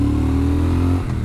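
A 2021 Triumph Speed Twin's engine revs up close in a loud, steady drone with a strong low hum that holds, then drops off abruptly near the end.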